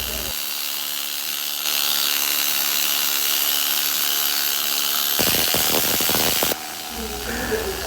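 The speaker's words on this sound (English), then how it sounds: "we need to use the needle scale and get rid of all this heavy rust" A needle scaler chatters steadily against a Hemi engine, stripping off heavy rust and scale. The loud, continuous buzzing rasp runs throughout, with a brief sharper burst near the end before the tone shifts.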